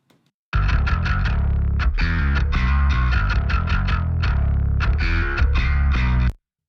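A distorted, chorused bass line plays a busy riff of plucked notes, loud and alone, starting abruptly and cutting off cleanly after several seconds.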